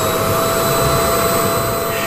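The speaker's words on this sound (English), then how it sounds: "you might have heard of Dyson as a type of vacuum cleaner, and the dual cyclone is certainly the invention for which Sir James is best known" A Dyson dual cyclone vacuum cleaner runs loud and steady, a constant high whine over a broad rushing roar that holds unchanged throughout.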